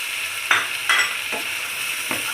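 Fried arbi (taro) pieces being stir-fried in a pan, a steady close sizzle broken by four distinct scraping stirs of a spatula at roughly half-second intervals.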